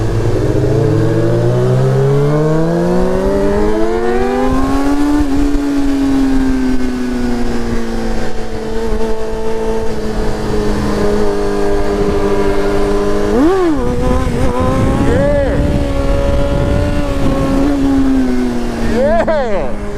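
Yamaha and Suzuki motorcycles revving at night, loud rising and falling engine whines close by with sharp throttle blips, under someone talking.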